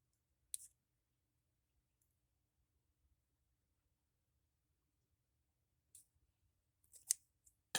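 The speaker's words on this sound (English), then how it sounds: "I'm just going to use my scissors." A few crisp scissor snips through paper in an otherwise quiet room: one early cut, then a short cluster of quick snips near the end.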